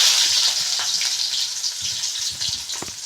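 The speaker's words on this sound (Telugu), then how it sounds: "ఆయిల్ హీట్ అయినాక కొన్ని ఆవాలు వేసుకున్నాం" Mustard seeds fry in hot oil with a steady, close hiss and crackle, occasional soft pops and light stirring knocks underneath.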